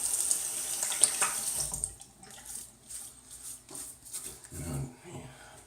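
Tap water runs from a faucet into a sink to wet a face for shaving, a soft steady stream that gives way to splashing and dripping, quiet and close.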